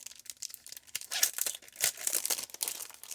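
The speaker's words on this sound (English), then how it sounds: "Sorry for the crinkling." Plastic packaging crinkles while a haul item is unboxed, with bursts of sharp close rustling and crackling that come and go in irregular handfuls, and no voices.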